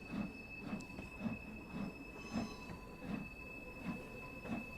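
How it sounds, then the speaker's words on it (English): A miniature railway train at Dresden Park rolls slowly around a tight curve, its wheels squealing steadily at a high pitch while a regular, evenly spaced clack from the rail joints repeats about every half second. "We are on the Dresden Park Miniature Railway."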